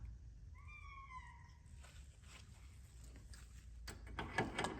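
A shop cat meows several times in a row, close and clear in a quiet garage workshop, with faint clatter and rustling afterward.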